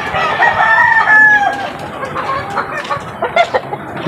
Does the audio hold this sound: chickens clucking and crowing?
yes